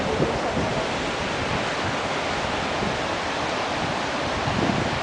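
Constant rushing water from a small outdoor waterfall, an even and fairly loud roar with wind noise mixed in, continuous for the whole stretch without any voices.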